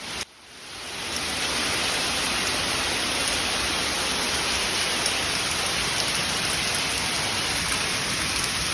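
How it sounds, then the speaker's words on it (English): Hail falls in a dense, steady hiss that starts abruptly and then holds at an even, moderate loudness for about eight seconds, with no voices. "That is not rain, that is hail."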